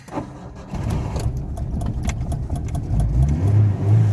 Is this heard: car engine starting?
yes